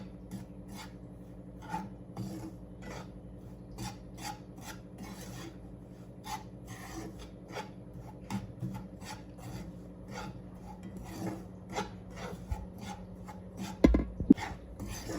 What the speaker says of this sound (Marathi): रवा आता आपला लालसर भाजत आलेला आहे